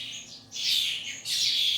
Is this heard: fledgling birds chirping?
yes